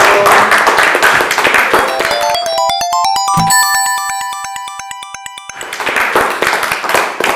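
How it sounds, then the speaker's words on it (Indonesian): Applause and cheering from a campus quiz-show audience on either side of a bright electronic jingle of rapid rising then sustained tones, the crowd noise loud and dense before and after the music. "Boleh dong tepuk tangan untuk pertanyaannya juga"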